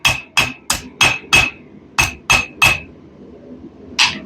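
Metal smithed with a hammer: about nine loud, close, ringing strikes in a steady rhythm with a short pause, then one final blow.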